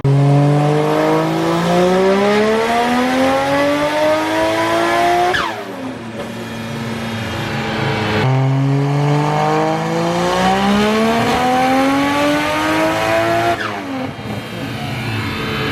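A turbocharged Toyota 1JZ engine revving hard in a car, rising twice in long, loud climbing sweeps that each drop off sharply before building again.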